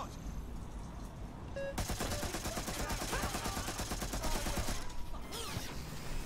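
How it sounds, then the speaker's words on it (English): An automated turret in Watch Dogs Legion fires a long, rapid, steady burst of gunfire with mechanical rattling, loud and continuous for several seconds before cutting off. "That turret's just going at someone."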